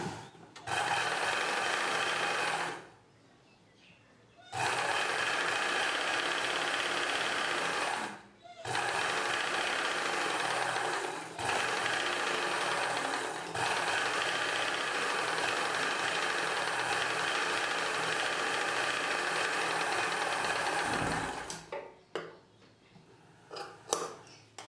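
A sewing machine runs in long steady bursts while stitching a cross cut blouse back piece, pausing briefly a few times between runs, loud and close throughout.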